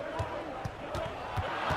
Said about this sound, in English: listen to this Chicago crowd erupting